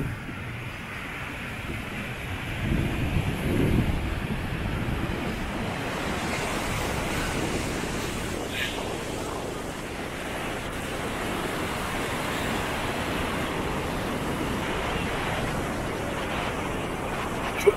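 Ocean surf rolls in at Praia Brava beach in Florianópolis, a continuous, loud wash of breaking waves mixed with gusty wind buffeting the microphone.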